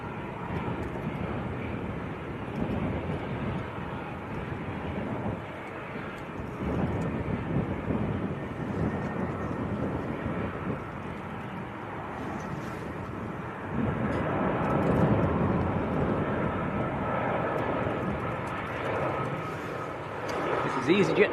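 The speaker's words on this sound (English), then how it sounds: "EasyJet from Faro down in Portugal." An easyJet Airbus A320 from Faro at Manchester Airport produces a continuous low engine rumble that builds somewhat toward the latter part, with people talking over it.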